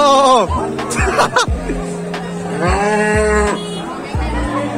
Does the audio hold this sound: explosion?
no